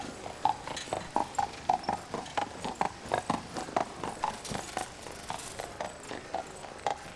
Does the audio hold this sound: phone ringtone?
no